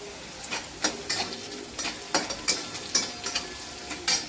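Onion and green chilli fry in a pan for poha as turmeric goes in, with a steady sizzle and repeated sharp scrapes and clinks of a spoon stirring at a quick, uneven rhythm, close and fairly loud.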